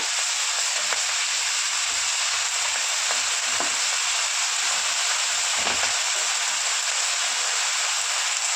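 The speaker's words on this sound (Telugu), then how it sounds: "ఒక స్పూన్ అల్లం పేస్ట్ వేసుకున్నాను ఫ్రై చేసుకున్నాను మంచిగా కూడా" Onions, curry leaves and ginger paste frying in a pan give a loud, continuous sizzling hiss, with a few soft scraping stirs underneath.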